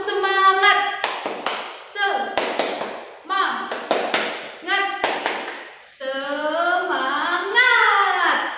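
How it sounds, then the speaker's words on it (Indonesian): Children in a second-grade classroom doing a rhythmic clapping chant: bursts of sharp claps alternate with sung, chanted phrases, ending in a long drawn-out shout. "kita tepuk semangat terlebih dahulu agar lebih semangat ya"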